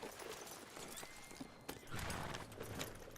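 Horse in Red Dead Redemption, with faint hoof clip-clops and shuffling under a soft background, and a louder burst of movement near the middle.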